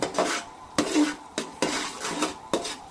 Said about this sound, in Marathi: बारीक गॅसवरच असा वितळून घ्यायचा आणि हलवत राहायचं सारखं त्याला